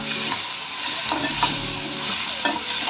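Coriander frying on a high flame for a Tamil mutton or chicken curry, with a steady loud sizzle and scattered stirring scrapes running throughout, no voices.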